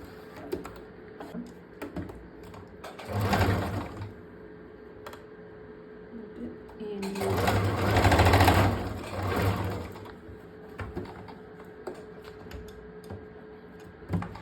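Sewing machine stitching a folded hook edge on a princess cut blouse, running in two short bursts of rapid mechanical whirring with faint clicks and handling noise between them.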